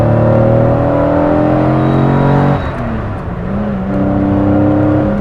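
An Aston Martin DB4 Mk5 engine roars loudly and close up as it is revved, holding a strong steady note, then dropping and rising again in a second rev.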